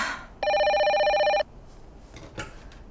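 An office desk telephone rings with a single electronic bell trill lasting about a second, fairly loud and close, then gives way to quiet room noise and a faint click.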